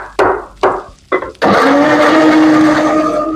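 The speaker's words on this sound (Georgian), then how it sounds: "პომიდორი დავაბლენდერებ ჩაშუშულისთვის." Tomatoes are blended for a vegetable stew: three sharp knocks as the blender is set and pulsed, then a loud, steady whirring motor that runs on to the end.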